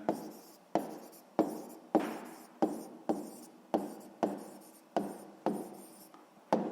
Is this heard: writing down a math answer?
yes